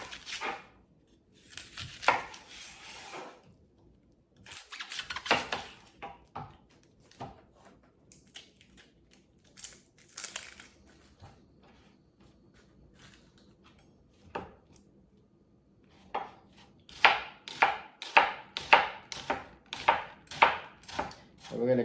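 A knife chops a large yellow onion into cubes on a cutting board, with irregular slicing knocks early on and then a quick rhythmic run of close, crisp chops near the end.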